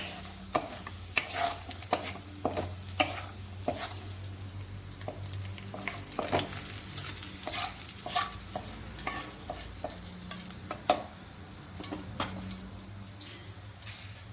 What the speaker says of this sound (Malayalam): അണ്ടിപ്പരിപ്പെല്ലാം മൂത്ത് നമുക്കിനി ഇതും ഒന്ന് കോരിയെടുക്കാം